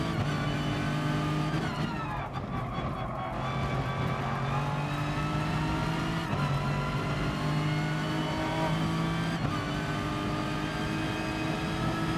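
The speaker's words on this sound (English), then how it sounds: "I like the sound of this car though, it sounds really nice." Gr.2 race car engine in Gran Turismo Sport, a steady loud exhaust drone with shifting harmonics and brief gear-change dips, continuous and close throughout without talk.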